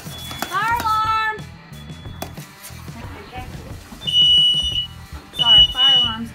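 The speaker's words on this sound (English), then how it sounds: "fire alarm's going off because we got the wood stove going" A smoke alarm, set off by a newly lit wood stove, beeps in short high-pitched bursts while children and adults talk and shout excitedly nearby.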